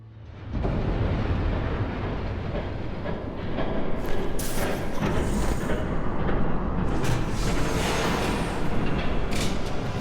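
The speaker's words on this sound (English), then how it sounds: "There's a train coming." A train approaches in the Batman Episode 3 video game on PS4, a deep rumble that swells and grows louder with heavier clattering bursts partway through, with no speech over it.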